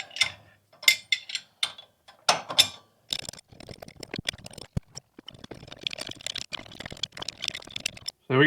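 Hand ratchet or wrench work on bolts during a Toyota 2JZ engine swap gives bursts of quick clicking and ratcheting, first in separate loud clusters, then in denser, steadier runs.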